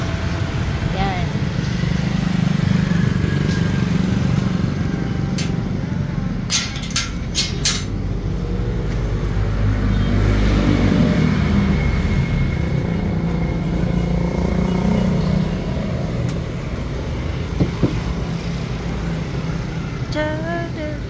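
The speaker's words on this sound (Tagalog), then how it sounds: "Mga tricycle, mga motor, mga private vehicle." Busy street traffic of tricycles, motorcycles and private cars near a gasoline station in Tanza passes continuously, a steady engine drone with rising revs and passing vehicles, while a voice talks over it.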